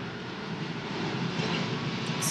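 An airplane passes overhead, a steady broadband engine roar that swells slightly as it goes, continuous and fairly loud with no speech over it.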